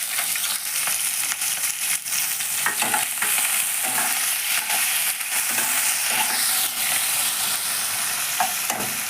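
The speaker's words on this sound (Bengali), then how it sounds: "পেঁয়াজটা ঢাকা দিয়ে একটু নরম করে ভেজে নিচ্ছি।" Chopped onion fries in hot oil with whole garam masala in a pan for a chicken dish, giving a steady close sizzle with intermittent stirring scrapes and clinks.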